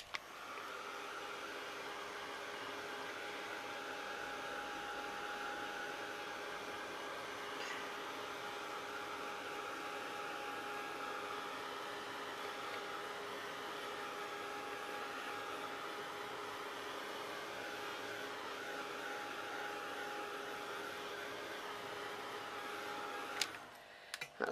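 A hair dryer blows steadily and evenly for over twenty seconds while drying a painted canvas, a constant airy whoosh with a fixed motor hum, then clicks off.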